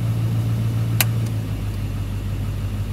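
A Duramax diesel pickup engine at regular idle, a close, steady low drone with a single sharp click early on, after which the pitch settles slightly lower and keeps running evenly.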